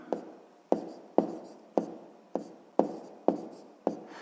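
A pen or pencil taps down and scratches out short strokes in a steady rhythm of about eight marks, close and quiet, as a sixth-grade math exercise is written out by hand with no talking.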